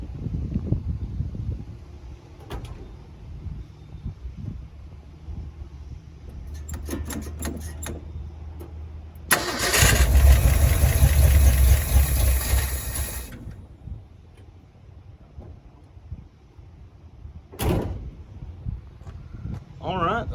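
A 1970 Ford F100 pickup's engine cranks and catches in a loud, rough burst of about four seconds, then cuts out; talk comes before and after.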